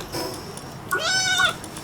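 A cat creature in the video game Palworld lets out a drawn-out, rising-and-falling meow after a softer earlier cry, clear and close with game ambience underneath and no talking.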